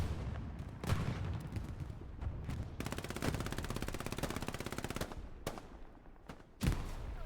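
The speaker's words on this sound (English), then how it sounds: "the area is getting shelled by tanks, by artillery" Tank and artillery shelling with sustained machine-gun fire in the World War II shooter game Hell Let Loose, heavy booms standing out over a rapid staccato burst in the middle.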